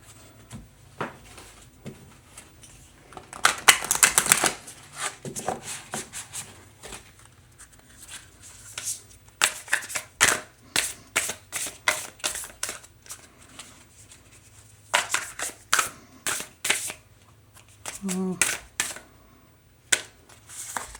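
Oracle cards being shuffled by hand in repeated bursts of crisp riffling and flicking, with short pauses between bursts and a few soft taps near the end; no talking.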